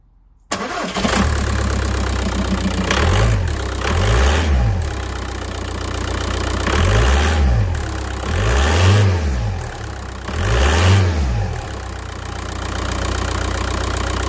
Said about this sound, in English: we're now just going to start her up and make sure that she fires on all cylinders